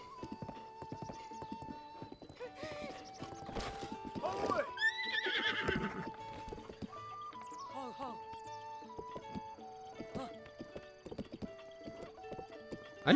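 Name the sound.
horse galloping and neighing in video game Zelda Breath of the Wild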